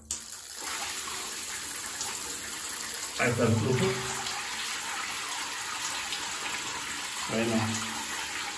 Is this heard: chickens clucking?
no